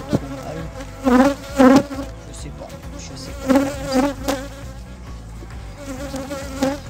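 Honeybees hum around an opened hive during an inspection, a close, dense buzz that swells and fades as individual bees pass near, with someone briefly speaking under it.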